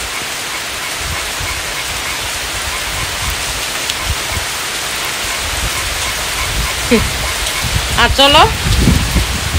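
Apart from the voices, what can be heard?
heavy rain falling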